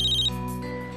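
A mobile phone ringtone plays as a loud electronic tone for about a quarter second, then lower tones continue under a steady musical backdrop from a Hindi TV serial scene.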